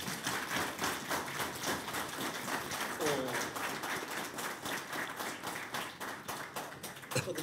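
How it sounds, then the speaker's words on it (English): An audience at a Permanent Peoples' Tribunal session in Kuala Lumpur gives the panel of judges a round of applause. The clapping is fairly quiet and sustained, with a brief voice rising over it midway. "They deserve a round of applause"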